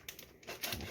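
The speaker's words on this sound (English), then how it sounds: "Cut open the bag." A plastic bag holding a frozen beef tenderloin is cut and torn open, giving short close crinkles and rustling bursts that grow louder toward the end.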